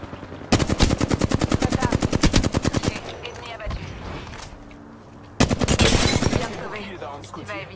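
Rapid automatic gunfire in Apex Legends, two loud sustained bursts of fast evenly spaced shots separated by quieter game noise and shorter pops.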